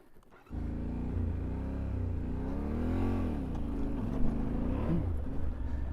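A Yamaha Tenere adventure motorcycle riding slowly on a trail beside the Snowy River, with a steady engine drone starting after a brief pause and rising and falling gently with the throttle, close to the microphone and without talk.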